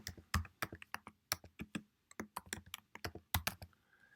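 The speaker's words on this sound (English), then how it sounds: "Let's type some text." Soft, close clicking and tapping of keys on a computer keyboard as text is typed in quick irregular bursts with short pauses between, quiet and with no voice over it.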